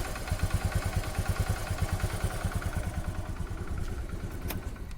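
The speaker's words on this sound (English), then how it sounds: "Very smooth idling." A scooter with 94,000 km on it, rebored once, idles smoothly with a steady, even pulse that stays close and fairly loud throughout, and no one speaks.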